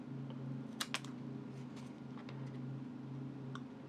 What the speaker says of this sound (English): you can actually cut it with scissors.